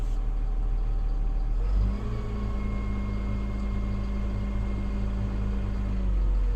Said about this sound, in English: so activate my spool valves and lift up my loader.